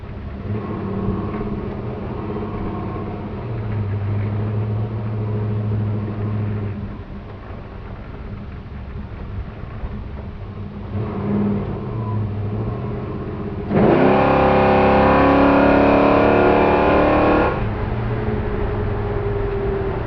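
A 1965 Chevrolet Chevelle engine hums steadily, then revs up hard for a few seconds with rising pitch before dropping back to a low idle.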